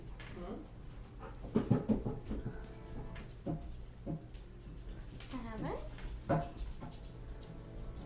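Puppies whimper and pant close by in short, soft bursts, with scratching and shuffling around them and a voice talking over much of it.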